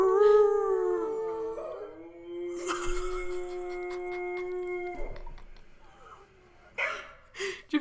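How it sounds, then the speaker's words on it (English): A dog howls in long, wavering, rising-and-falling tones, fairly close, with a few short yips and background noise toward the end. "He's so sad that he howls."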